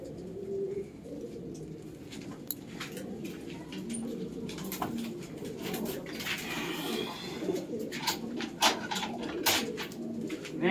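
Tippler pigeons coo steadily in a low, murmuring rhythm at a breeding loft, the calls layered and continuous, with some faint chirps and clicks overhead.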